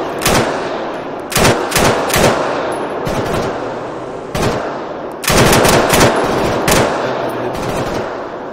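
Heavy automatic gunfire in the Arma 3 military shooter, loud bursts of machine-gun fire coming in repeated clusters with brief gaps, close and dense, no voices over it.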